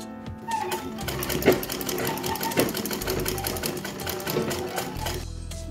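A sewing machine stitches a blouse piece, running steadily and close up with a fast, even mechanical whir that surges and eases several times before stopping near the end.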